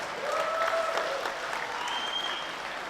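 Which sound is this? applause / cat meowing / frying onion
applause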